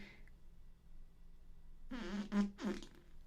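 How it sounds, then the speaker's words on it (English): A fart, a buzzy pitched rasp that wavers over about a second and a half after a quiet start, played alone. "I have a fart"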